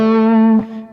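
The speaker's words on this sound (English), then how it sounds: "it's really important, I think, also to practice with some distortion here" Electric guitar played through a distortion effect during a shred picking lesson in G Dorian: one loud, sustained, buzzy distorted note rings alone, then cuts off abruptly and a quieter note follows.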